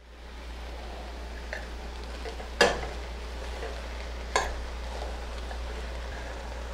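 Sliced onions for French onion soup cook in a pan with a steady low sizzle, broken by two sharp stirring scrapes and a faint clack.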